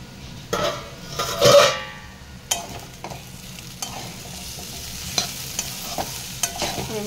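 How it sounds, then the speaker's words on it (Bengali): Potatoes and peanuts fry together in a pan for a yardlong bean dish and are stirred now and then. A soft sizzle runs under intermittent scraping and clinking of the spatula against the pan, louder early on and then in lighter taps. "ঢাকন দিয়ে আলুটা আর বাদামটাকে একসঙ্গে কিছুক্ষণ ভাজতে দেবো"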